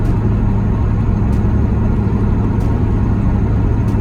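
Tuned truck engine with a stock converter locked up, cruising at 55 mph around 1700 RPM: a steady, loud low drone with road rumble, continuous throughout with no talk.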